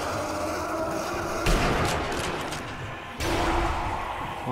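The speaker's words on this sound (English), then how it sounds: "What's that? My grenade." A grenade explosion in the zombie shooter Sniper Elite Nazi Zombie Army, heard as a loud booming blast over rumbling battle noise, followed moments later by a second heavy burst.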